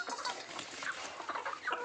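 Free-range village hens on a small poultry farm, a flock clucking and murmuring nearby in overlapping calls with no pause.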